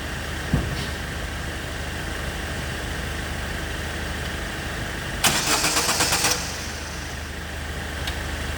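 A 2006 Opel Zafira with a suspected bad starter motor cranks briefly and catches, a loud burst of starter whirring about a second long over a steady idling engine hum, with no talk.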